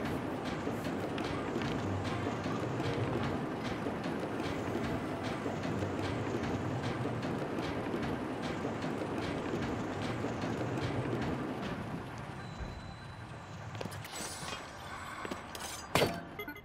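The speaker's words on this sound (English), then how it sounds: "This is the age of the train. Yep. Well, the age of the rail zeppelin, I suppose." Rail zeppelin train from Zelda: Tears of the Kingdom running steadily along its track, a continuous rumbling roll with rhythmic clacking that drops off near the end, leaving quieter scattered clatter.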